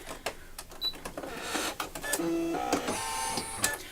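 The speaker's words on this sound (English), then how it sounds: "So now I've loaded the black thread and it's going to stitch the Christmas tree outline for this particular page." An embroidery machine stitches a Christmas tree outline in black thread, making a rapid, mechanical chatter of needle strikes and whirring motor tones with short pitched beeps, steady and close.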